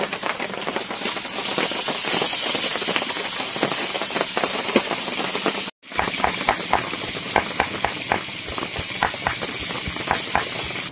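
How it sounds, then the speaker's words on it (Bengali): Fish sizzling and crackling in hot oil in a home kitchen, a steady dense hiss with rapid popping spatters throughout, briefly cut off midway before resuming just as loud. "বাকি মাছগুলো ভেজে নেবো"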